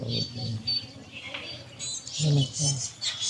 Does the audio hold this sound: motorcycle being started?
no